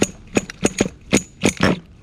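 A Kyosho Foxx 2.0 RC car's nitro engine gives short, sharp braps, about six choppy bursts in quick uneven succession, close and moderately loud.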